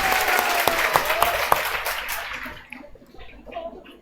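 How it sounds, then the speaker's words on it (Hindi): Audience applause breaks out to celebrate a candidate's final selection in the Bihar Police excise exam, loud dense clapping from a crowd that fades and thins out after a couple of seconds. "एक बार इनके सिलेक्शन के लिए जोर से ताली।"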